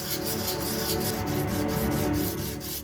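Dried concrete-texture surface on a diorama being sanded by hand: a close, steady rasping rub with soft repeated strokes and no pauses.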